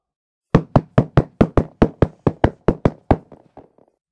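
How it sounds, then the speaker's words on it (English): Pounding on a gorilla's chest, about a dozen quick, evenly spaced hollow thumps that fade into a few softer taps at the end. "We gorillas like to pound on our chests to show how strong we are."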